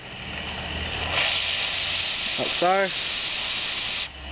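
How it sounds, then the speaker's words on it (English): Steam hisses steadily from an opened valve on a coal-fired steam locomotive while it is being fired up, a continuous close rush of vapor with a brief spoken aside over it. "I like to open the valve and let the steam out to get all the water out."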